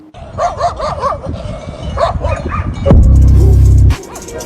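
A dog barks repeatedly at a little boy, with several sharp close barks and yips over the first few seconds, then a loud low sustained sound near the end.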